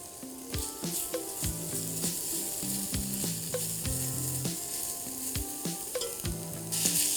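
Garlic fries in a pan for osso buco, a loud close sizzle with frequent clinks and scrapes of a utensil against the pan, and no voices.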